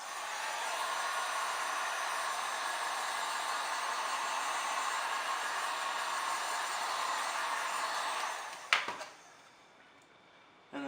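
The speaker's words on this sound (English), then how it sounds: "You just grab your heat gun and then just blast it a little with it." A heat gun blows hot air onto vinyl overlay on a Honda Civic Si light in a loud, steady roar for about eight seconds, then clicks off and winds down.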